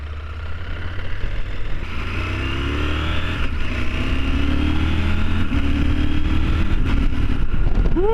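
A CFMOTO 1000MT-X motorcycle rides along with a steady, loud engine drone and heavy wind rush. Its engine pitch climbs gradually as it accelerates, and the sound stays close throughout with no talking.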